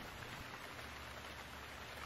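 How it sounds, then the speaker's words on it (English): Rain falls steadily in a soft, even hiss, faint and continuous with no voices. "What? Is it raining?"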